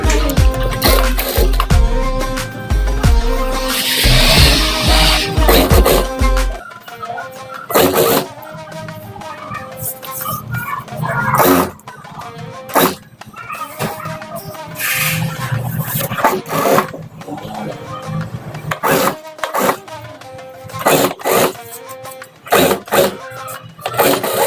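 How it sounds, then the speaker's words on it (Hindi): A sewing machine stitching leftover fabric scraps into a cushion: steady loud mechanical running, with a dense whir up to about six seconds, then rhythmic stitching bursts with clicks and pauses, close up and alone. "अभी इसको ऐसा रख के एक सिलाई करेंगे।"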